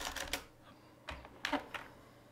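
Computer keyboard keys tapped in a few short, quiet bursts with brief pauses between, soft and close.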